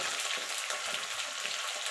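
Young flat beans dry-frying in a pan, a soft, even hiss of sizzling that holds steady for a short moment with no talk.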